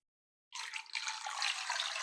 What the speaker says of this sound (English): and then just enough water to cover them with